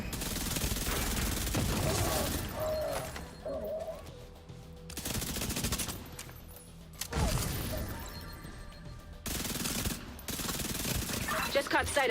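Gunfire in The Division as an enemy is shot: bursts of rapid automatic fire, close and loud, broken by short pauses, with game sounds in between.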